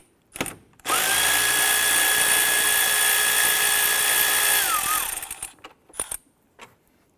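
A power tool spins out a bolt on the radiator fan shroud of a 2011-2018 Ram 1500, a loud sustained whirring drill note for about four seconds with a pitch drop as it stops, framed by short clicks and knocks.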